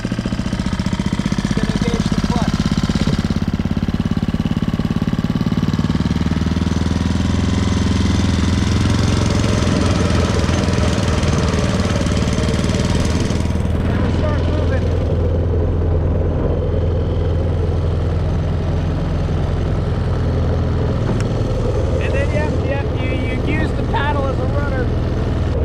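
A Honda engine fitted to a motorized kayak runs close by with a loud, steady mechanical chatter and drone that shifts as the throttle changes, with someone talking over it.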